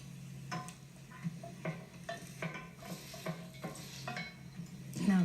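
An oats tortilla cooks on a hot pan with a soft, steady sizzle, broken by a few gentle scraping and stirring strokes and faint clinks, ending in a louder rustle.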